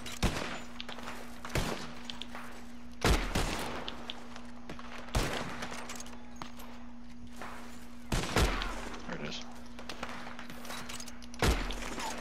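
Gunfire in the video game Red Dead Redemption 2: sharp, loud single shots spaced a few seconds apart over a steady low hum, no talking.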